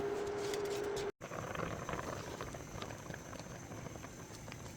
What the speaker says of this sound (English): In a pot of boiling water, add salt.